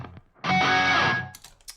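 Screamy guitar effect from a video game theme song, a single distorted, wailing burst lasting under a second, loud and close, followed by faint clicks.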